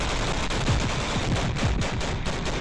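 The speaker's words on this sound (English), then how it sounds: "Look at the rapid fire the Bradley unleashes on the Russian BMP-2." Rapid bursts of heavy autocannon fire from a Bradley fighting vehicle engaging a BMP-2 pound steadily over a dense, roaring background, the shots coming in quick repeated volleys.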